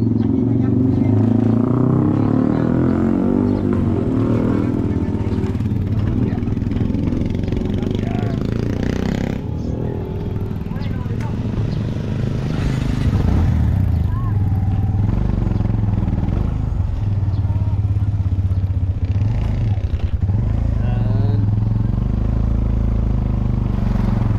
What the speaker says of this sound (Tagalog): Dito na kami sa tricycle ni Kuya.